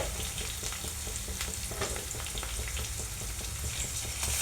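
Ginger garlic paste frying in a pan with potatoes and mushrooms for curry gives a constant close sizzle and spatter, broken by light stirring scrapes.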